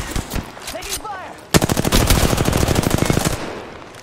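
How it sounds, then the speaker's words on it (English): Rapid automatic weapon fire in the Apex Legends video game bursts in loudly after a quieter opening with scattered game sounds, then continues as a dense, fast string of shots for about two seconds before easing off. "Taking fire!"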